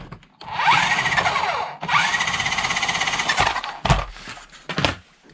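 Brushless motor of a Mario Kart RC car whining loudly on throttle, with two long rising-and-falling revs followed by several short sharp bursts, close and alone without talk.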